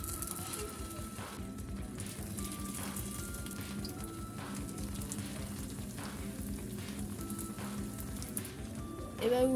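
Aloo paratha fries in oil in a pan with a soft, steady crackling sizzle, fairly faint and continuous, ending in a short louder clatter.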